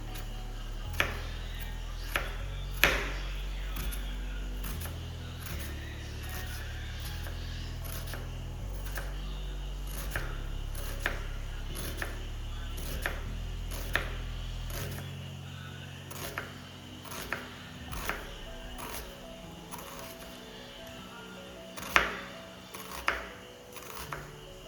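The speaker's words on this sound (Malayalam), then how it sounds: "നമുക്ക് മസാലയ്ക്ക് വേണ്ട ഉള്ളി ചെറുതായിട്ട് അരിയാം" Onions being finely chopped with a knife on a board, a steady run of crisp, close knife taps and cuts under a low background hum, with no talking.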